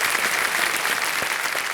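A studio audience on the Kaun Banega Crorepati game show, Season 14, applauds a contestant with dense, steady clapping that fills the whole stretch at an even, fairly loud level.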